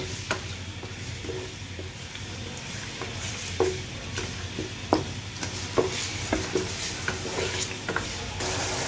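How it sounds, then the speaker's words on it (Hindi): Beef frying on a high flame in a karahi with oil, a steady sizzle overlaid by repeated sharp clatters and scrapes of stirring that grow busier and louder toward the end. "और अब इसको भुनाई शुरू हो जाएगी इसकी बीफ की।"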